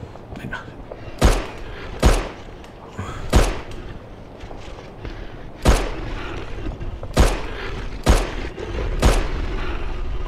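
Repeated gunshots in the survival-horror game Fobia – St. Dinfna Hotel, about seven loud, sharp shots spaced irregularly about a second apart over a low rumbling game background.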